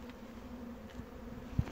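Honey bees buzz steadily at the hive, a low, close hum with one or two sharper passes of single bees near the end and no talking.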